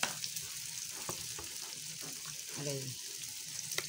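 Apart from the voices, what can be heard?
chicken frying in pan for chicken adobo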